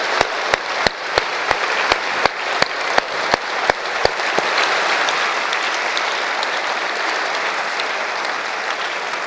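A rally crowd applauds, starting with a run of sharp, evenly spaced single claps and swelling into dense, loud, sustained clapping across a large audience.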